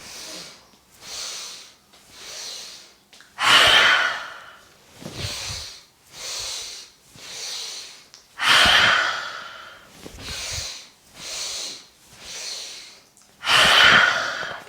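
Forceful breaths of the Breath of Joy exercise: repeated quick inhales in steady cycles, each closed by a big, loud exhale, close and alone with no talking.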